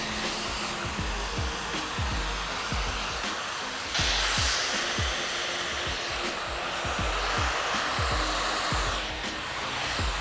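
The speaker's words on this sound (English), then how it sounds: "if it's dried too much with the diffuser, it tends to curl up too much" A hair dryer fitted with a diffuser runs steadily and loudly while drying natural curly hair, with a continuous airy roar and regular low pulsing as the diffuser is pressed and moved through the curls; no voices.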